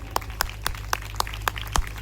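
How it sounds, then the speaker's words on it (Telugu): Hands clap in a steady, even beat, about eight sharp claps in quick succession, fairly close against a quiet background hum. "కొట్టుగట్టిగా చప్పట్లు"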